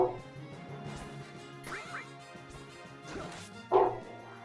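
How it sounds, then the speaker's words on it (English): A pet dog barks in a room during a Final Fantasy VII game livestream, a few sharp, fairly loud barks spread over several seconds, the last one strongest, over low background game sound. "I do apologize for my dog barking like that."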